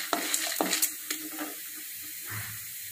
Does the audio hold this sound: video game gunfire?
no